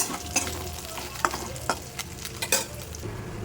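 Chicken masala frying in a kadai after the meat juices have dried off, the spices starting to stick and catch; a faint sizzle runs under repeated scraping stir strokes at an uneven rhythm, with no talking.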